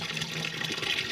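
Water gushes steadily from an outdoor village tap after its frozen pipe was thawed with hot water in wintry Kinnaur, a close, loud, continuous splashing flow with no talk.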